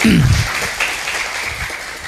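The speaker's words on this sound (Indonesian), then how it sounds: "Tepuk tangan teman-teman semuanya." Brief burst of audience clapping at an Aswaja orientation session, a sliding tone at the start, then steady applause that carries on for about two seconds.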